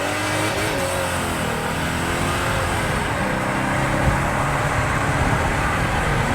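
Mercedes E50 AMG V8 engine accelerating hard from inside the car, a loud, continuous, throaty roar that climbs steadily in pitch with no pauses.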